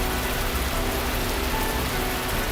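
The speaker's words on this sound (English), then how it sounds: "The pitter patter of the falling rain is all that remains." Rain falls in a video game scene, a dense, even hiss of pattering drops that stays constant and fairly loud for the whole stretch, with no speech over it.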